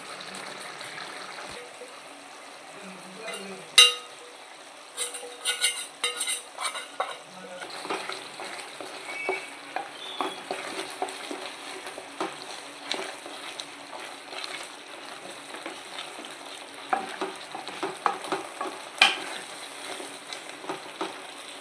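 Green peas masala stirred and fried in a pan makes a continuous soft sizzle broken by repeated close scraping and clinking strokes of a spoon, with irregular bursts throughout and no speech.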